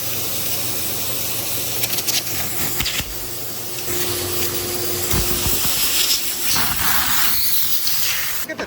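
A spray gun paints an F-150 truck topper, giving a close, steady airy hiss that surges and breaks off in several short passes.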